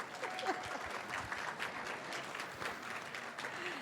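Diners at a banquet break into moderate applause, a steady patter of many hands with a few sharper claps standing out, lasting a few seconds.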